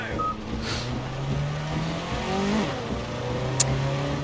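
A Ginetta Junior race car engine in the racing game Project CARS 2 revs up from a start, its pitch climbing steadily through the gears, heard up close and clear with no talking.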